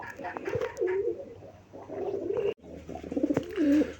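Domestic pigeons at a farm give several close, low rolling coos in bursts, with a brief break midway and no voices.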